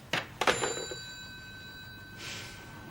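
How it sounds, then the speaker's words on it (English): A telephone bell rings in short bursts near the start, with steady high tones that linger and fade, followed by a soft hiss later in a quiet indoor room. "I've had a few funny phone calls, George."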